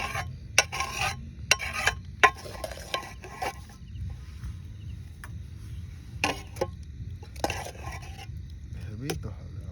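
Spoon scraping and clinking on a plate while eating vegetable khichuri with fried fish and fried egg, a series of short sharp taps and scrapes close up over a low background hum, with a voice talking in between.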